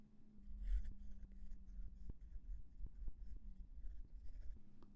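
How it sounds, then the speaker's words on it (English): A pen moves across paper as a diagram is drawn by hand for a chain rule lesson, giving quiet scratchy strokes and soft taps in an irregular rhythm, close by and faint, with no talk. "let me go ahead and draw this out for you"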